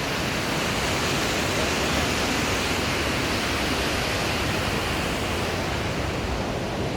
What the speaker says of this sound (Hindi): इसके पीछे भी झरना है, वो ऊपर से आ रहा है।